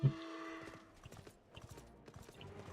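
Horse hooves clip-clopping while riding in Final Fantasy XIV, quick rhythmic hoofbeats over game music, fairly close and moderate, with a brief loud thump at the start.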